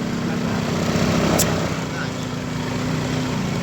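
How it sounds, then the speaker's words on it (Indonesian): Motorcycle engine straining as it labours uphill, a steady low droning hum under faint background noise throughout, with no rise in pace. "Motornya nggak ngangkat."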